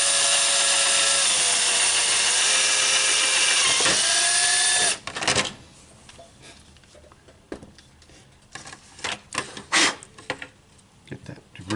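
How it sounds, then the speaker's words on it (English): A power drill whines steadily for several seconds while drilling a hole in a Linkimals otter toy being adapted, its pitch dipping under load, then stops, followed by scraping, clunks and a person talking. "So drilling out."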